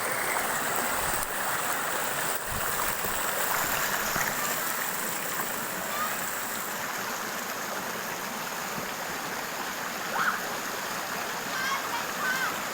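Steady rushing of a clear river fills the clip, a continuous broadband wash of water, fairly close, with faint voices now and then underneath.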